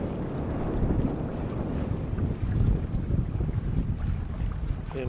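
A sailboat under full sail beats to windward in a 7 to 10 knot breeze on Chesapeake Bay, giving a steady rush of wind buffeting and water washing past the hull.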